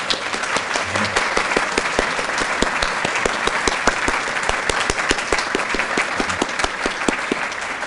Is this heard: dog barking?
no